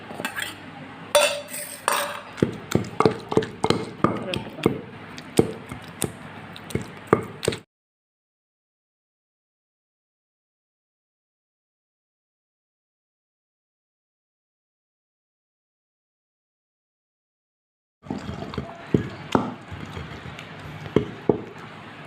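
Ridge gourd chutney being mixed by hand in a stone mortar gives a run of sharp scraping and tapping knocks. It falls silent for about ten seconds, then the same clatter comes back briefly.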